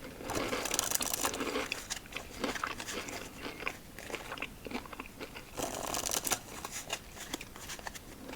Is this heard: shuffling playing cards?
yes